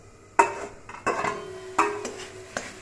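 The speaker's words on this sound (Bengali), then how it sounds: "ঢাকাটা খুলে দেখি," A metal lid on a cooking pot clanks and rings in several sharp knocks spaced across a few seconds, close and clear over a faint kitchen background.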